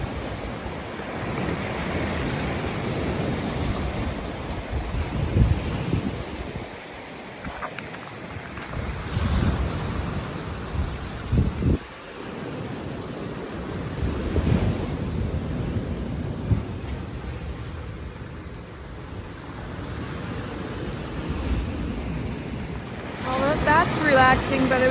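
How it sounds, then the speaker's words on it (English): Ocean water surging out under rocks and back to sea on the rocky Cape Chignecto shoreline in Nova Scotia, a steady rushing wash with swelling surges and constant wind buffeting the microphone. "That's the water going out under the rocks and back into the ocean."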